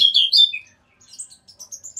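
A young pet songbird chirps in quick, high, bright bursts, a cluster of loud close calls followed by a series of shorter, softer tweets after a brief pause.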